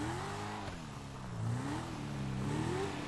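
A Corvette engine in GTA V hums and revs with rising and falling tonal sweeps, the pitch climbing twice as the car accelerates, steady and fairly close with no talking.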